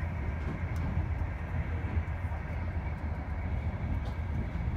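A passenger train bound for Beijing rumbles along the rails, a low, quiet, steady drone heard from inside the carriage with no talking.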